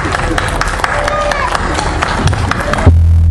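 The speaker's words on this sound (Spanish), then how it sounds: "Fuerte el aplauso, señoras y señores." Crowd applause and cheering at a rodeo-style festive event honoring the Virgin, a dense wash of clapping and voices that cuts off abruptly near the end into a low steady hum.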